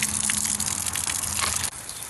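A garden hose nozzle set to shower mode sprays water outside a house, a loud, steady hissing gush heard up close that cuts off sharply near the end.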